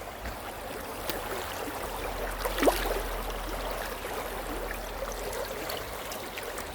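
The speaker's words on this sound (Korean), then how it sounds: "물소리 들리시죠?" Clean stream water flows steadily along Akyang creek, a stream fed from Jirisan's Cheonghak-dong in rural Korea, a continuous soft rushing and trickling wash with a faint brief knock partway through.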